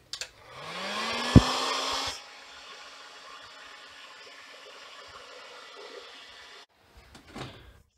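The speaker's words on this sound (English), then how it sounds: "I'm just going to heat it up a little bit more with a hot air gun" Hot air gun blowing on a PTFE seal of a Stirling engine, starting with a rising whine and steady roar, then settling into a quieter constant hiss before switching off, followed by faint handling clicks.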